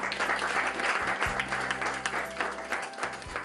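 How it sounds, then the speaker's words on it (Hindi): Audience applause welcoming officials on stage at a Hindi fortnight award ceremony held at Doordarshan Kendra, Mumbai; continuous, busy hand clapping from a roomful of people with a steady low hum beneath. "तालियों से स्वागत कर रहे हैं।"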